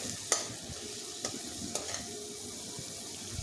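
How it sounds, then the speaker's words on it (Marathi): Masala cooks in oil for palak paneer, giving a steady soft sizzle with a few sharp scraping or stirring clicks. No one speaks. "आता आपल्याला या मसाल्याला तेल सुटेपर्यंत त्याला कुक करायचे"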